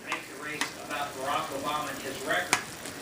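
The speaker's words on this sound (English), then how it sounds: "So for now, I'll just go and stir up the mushrooms a little bit." Mushrooms sizzle in a hot pan on a home stove while being stirred, a steady close frying hiss broken by a few sharp scrapes, with no speech.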